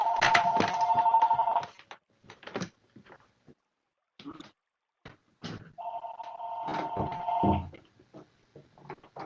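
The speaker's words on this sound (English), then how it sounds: "Yeah, I know, that's my phone," A mobile phone rings with two loud bursts of a repeating electronic ringtone, separated by a few seconds of quieter clicks and handling noises, indoors during an online Second Life art and museum tour presentation.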